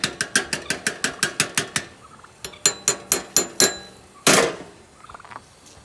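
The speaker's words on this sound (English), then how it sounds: "Whisking, whisking, whisking. This is my whisking song." A whisk rattles briskly against a bowl of prepper storage food, about ten quick clinking strokes in a steady rhythm, a brief pause, then a few more strokes and a louder scrape, close and clear.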